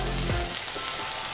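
Onions frying lightly in a pan for a Bengali rohu fish curry, giving a continuous close sizzle with a brief low thump near the start.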